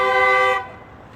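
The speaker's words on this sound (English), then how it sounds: "people are honking all over the place" One sustained car horn honk near a car wash, loud and steady for about half a second before cutting off, leaving low background rumble.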